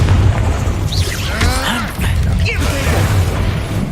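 Confringo fire spell blasts in Hogwarts Legacy, a loud booming burst with crackling magical whooshes over constant low rumble of battle, a second blast following shortly after.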